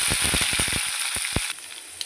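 Crushed garlic fries in hot oil with a steady, bright sizzle, broken by a few low stirring scrapes and knocks against the pan.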